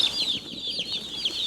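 Meat chicks chirping steadily while being unboxed, a dense stream of many overlapping high, thin peeps that continues throughout with no pauses and no talking.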